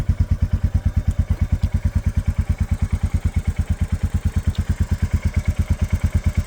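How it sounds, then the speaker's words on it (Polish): Two motorcycle engines, a Royal Enfield Meteor 350 and a Super Meteor 650, idle close by with a rapid, even, thumping putter that holds a steady rhythm throughout. "Także tak gadają te dwa motocykle."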